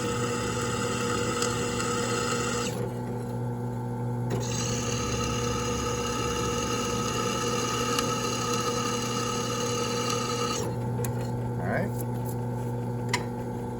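A drill bit spins freely in the air between holes during knife making, a steady motor whine that cuts out and restarts over a low hum, with someone talking over it.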